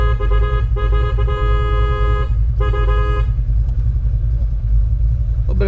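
A Fox-body Mustang V8 roller motor with a decent-sized cam idles with a choppy, lopey rumble, its low pulsing exhaust steady throughout while a tonal horn-like note sounds twice near the start.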